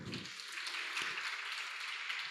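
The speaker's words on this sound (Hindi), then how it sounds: "वेरी गुड, बहुत जोरदार तालियां।" Steady wash of audience applause at a spiritual talk on karma, moderately loud and sustained with a brief low thump early on, no voices over it.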